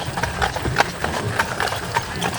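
Hooves of two six-year-old half-sister horses pulling in a wagon train clip-clop in an uneven, steady rhythm at close range, faint voices around them.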